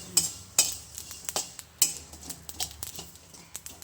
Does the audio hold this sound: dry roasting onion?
yes